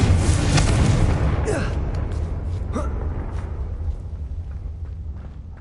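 Explosive Confringo spell blast in Hogwarts Legacy, a loud booming burst that trails off into rumbling decay, with brief sharp effects and faint vocal sounds following.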